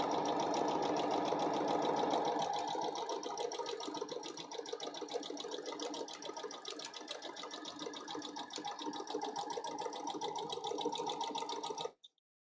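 A sewing machine running continuously for about twelve seconds, a steady rapid mechanical whir and needle clatter, louder and fuller at the start, then stopping abruptly at the end.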